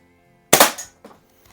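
A single sharp crack of a Crosman BB gun fired indoors across a garage at a can, with a short decaying tail and a faint knock of impact about half a second later.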